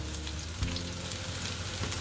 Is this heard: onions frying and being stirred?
yes